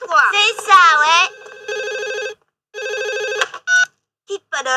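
A cartoon telephone rings in bursts of warbling electronic trills with short gaps between them, loud and close. A voice speaks briefly before and after the ringing.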